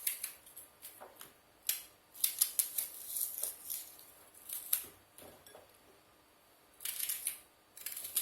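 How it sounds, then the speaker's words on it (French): Knife cutting vegetables into large chunks for a red lentil soup: a series of crisp, close chops and taps in irregular bursts with quiet pauses between. "je vais les couper en gros morceaux comme ça"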